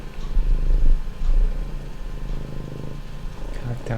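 A pet cat purring up close, a steady low rumbling purr throughout with rhythmic breathing swells, fairly loud and alone.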